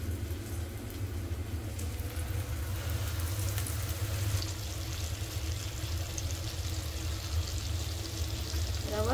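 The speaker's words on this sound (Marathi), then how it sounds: "तवा तापलेला आहे आपला, त्यात सुरमईचे तुकडे लावून घेऊया।" Semolina-coated surmai fish pieces shallow-fry on a hot tawa with a steady, soft sizzle under a constant low hum, quiet and even throughout.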